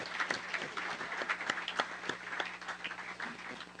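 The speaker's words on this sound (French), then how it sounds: "Est-ce que vous êtes en mesure d'applaudir ces 2 équipes, s'il vous plaît?" An audience at a university debate tournament applauds two debate teams, with dense, steady clapping from a crowd heard at a moderate distance throughout.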